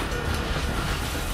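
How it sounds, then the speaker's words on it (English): A train rolling by in Dishonored, heard as a dense, steady rumbling clatter at moderate level with no pauses. "It's a train."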